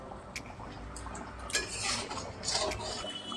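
Metal spoon scraping and clinking against a pan while Katla fish curry simmers with whole green chillies, steady bubbling under light, irregular taps and scrapes.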